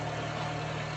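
A 2010 Honda City car engine running at idle gives a brief, steady low hum.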